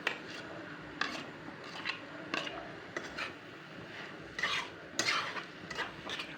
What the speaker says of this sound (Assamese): আদা ৰহুনখিনি দি পেলাই এনেকৈ লৰাই থাকিব লাগিব